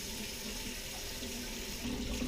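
Warm water runs steadily from a kitchen tap, a continuous close hiss and splash while measuring water for pizza dough, unbroken for the whole stretch.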